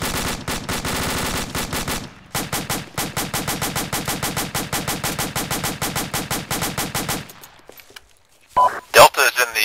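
Rapid automatic gunfire from a video game firefight in a forest clearing: long, loud sustained bursts with brief pauses, then the shooting breaks off, followed by a few scattered sharp clicks and tones near the end.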